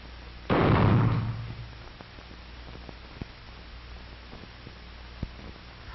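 A single sharp gunshot from practice shooting at miniature targets, recorded in 1946, rings out loud and close near the start and decays over about a second, followed by faint clicks and a hissy background.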